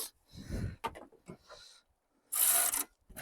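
Ratcheting wrench clicks on a 15mm bolt while tightening an alternator on an MG TF, close and fairly loud, coming in uneven bursts with a longer harsh burst near the end.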